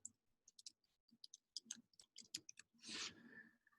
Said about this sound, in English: I'm typing it in here.